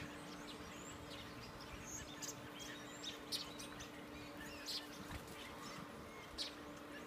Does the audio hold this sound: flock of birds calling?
yes